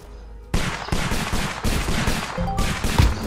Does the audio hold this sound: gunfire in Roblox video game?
yes